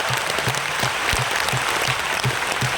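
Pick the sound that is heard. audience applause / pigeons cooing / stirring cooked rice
audience applause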